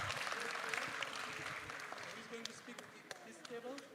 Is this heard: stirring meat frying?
no